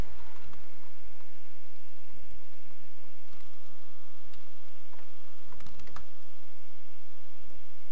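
Close typing on a computer keyboard, bursts of quick clicking keystrokes with short pauses, over a steady electronic hum and with no talk.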